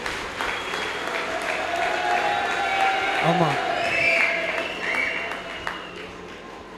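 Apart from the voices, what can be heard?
audience applause for a speaker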